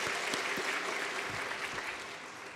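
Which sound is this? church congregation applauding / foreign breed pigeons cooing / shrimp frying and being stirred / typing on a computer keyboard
church congregation applauding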